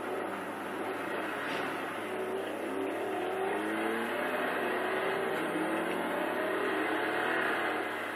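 Truck engine in a racing video game, a steady droning engine roar with gently rising, overlapping pitch sweeps as it revs, continuous and loud with no pauses.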